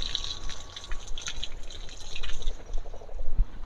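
Water from a hose pipe trickles and spatters onto freshly laid concrete at a village building site in Bihar, a soft, continuous splashing with occasional drips, faint and close.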